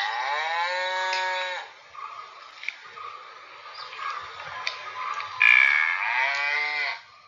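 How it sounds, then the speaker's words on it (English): A cow on a farm moos in long, drawn-out calls, one at the start and another near the end, with faint livestock sounds between them; no one speaks. "This is a cow."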